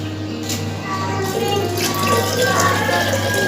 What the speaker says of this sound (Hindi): अब हम इसमें मज़ीद पानी ऐड करेंगे